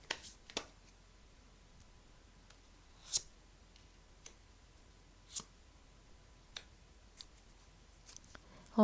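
Tarot cards are drawn and handled during a reading, heard as sparse, crisp snaps and flicks at close range against a quiet room, spaced irregularly over several seconds.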